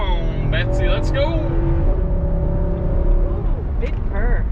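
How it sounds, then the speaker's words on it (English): A 2021 Nissan Armada SUV engine rumbles in a steady, deep, loud drone from inside the moving vehicle, with people talking over the engine. "Ooh, big purr. Yeah, that sounds big purr. It's a neat motor."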